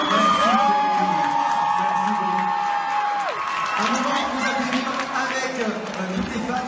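A live audience at the MFA event cheers, whoops and applauds for Amir, a dense, loud crowd roar with a long sustained whoop rising above the clapping and shouts throughout.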